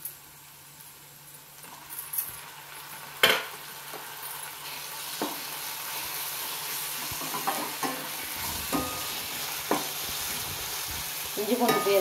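Ginger garlic paste and browned onions sautéing in a pan, a constant close sizzle with periodic spatula scrapes and a few sharp taps against the metal, no voices over it.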